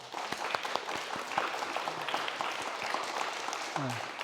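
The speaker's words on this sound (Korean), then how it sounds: "우리 격려의 박수 한번 합시다." A church congregation claps together in steady scattered applause after a service, with a few voices mixed in.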